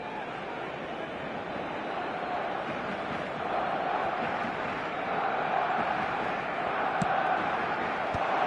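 Stadium crowd in an eFootball 2025 match, a broad steady roar of cheering and applause that swells slightly midway, with a couple of sharp clicks near the end.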